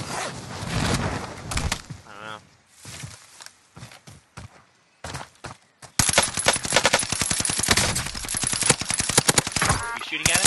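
Gunfire in the shooter game Warzone, first sporadic and muffled amid game sounds and a talking player, then a loud, rapid automatic burst of close shots running continuously to the end.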